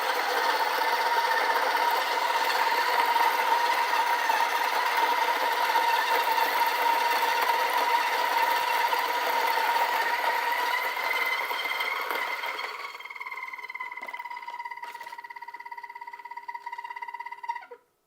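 An Acaia Orbit coffee grinder runs at 1,000 RPM with a loud, steady tonal whine that weakens near the end before cutting off.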